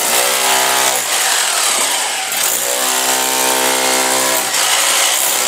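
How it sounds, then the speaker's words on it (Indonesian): A power drill bores a hole during a house renovation, making a loud, close, continuous motor whine that dips briefly a few times as the bit works through the material. "dia menggunakan bor itu ya"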